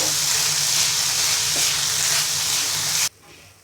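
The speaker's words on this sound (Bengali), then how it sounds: "এবার ভালো করে নেড়ে নিব এভাবে দুই মিনিট শাকটাকে ভেজে নিব" Boiled radish greens fry and get stirred in a pan, giving a loud, steady sizzle with soft scraping throughout, which cuts off abruptly near the end.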